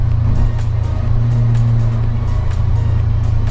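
A 2008 Mercedes-Benz AMG C63 with a V8 engine accelerates hard, its deep engine roar loud and close, holding a steady heavy drone throughout.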